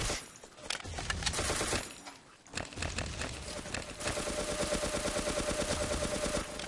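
Rapid automatic gunfire in the Ace of Spades video game's zombie mode, loud dense bursts of repeated shots that keep going nearly the whole time, with a short lull partway through.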